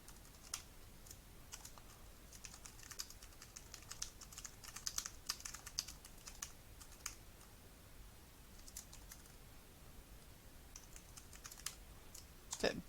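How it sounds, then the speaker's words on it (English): Keyboard keys click in a long, fairly quiet stream of irregular taps, some quick bursts and short pauses, steady throughout with no voices. "I'll type this in."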